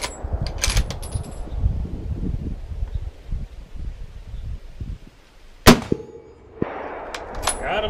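A 7mm Rem Mag rifle bullet strikes a steel target on an elk-hunting range with a single sharp ringing clang that rings on briefly, following quieter rustling and handling noises nearby.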